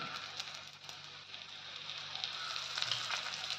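Oil sizzling in the holes of a pumpkin thalipeeth on a hot pan: a steady, faint hiss with small crackles that swells slightly toward the end, with no voices.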